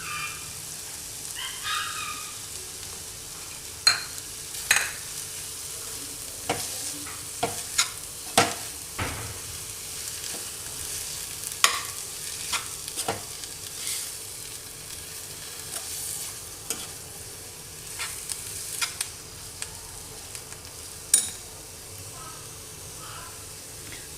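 Paneer masala with coriander leaves is stirred in a frying pan for a dosa filling: sharp spatula scrapes and taps come every few seconds over a low, quiet sizzle.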